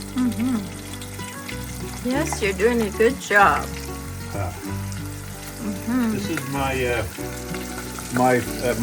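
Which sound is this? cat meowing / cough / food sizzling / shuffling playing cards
food sizzling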